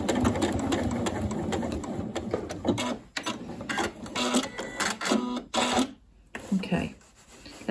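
A Janome Horizon Memory Craft 9480 QC Professional sewing machine stitching backwards while attaching a zipper, giving a close, busy mechanical chatter in short bursts with brief pauses between runs.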